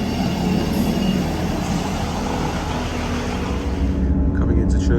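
A former ScotRail Class 158 diesel multiple unit passes near Church Fenton on the Leeds to York line, a loud steady rumble of engine and wheels on rail throughout, with a faint voice.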